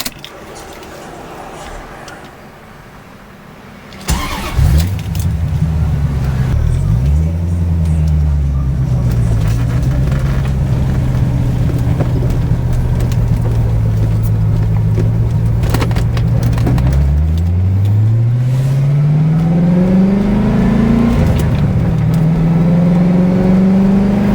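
A C4 Corvette with an LT1 engine idles quietly, then starts up and drives, its steady exhaust drone rising and falling through gear changes with clear revving near the end, loud and close with no talking.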